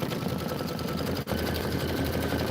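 Kimberbell embroidery machine stitching a satin outline on the upper rim of a Let It Snow pillow design, a steady, fast, even mechanical whir with dense rapid stitch pulses and one brief dip midway.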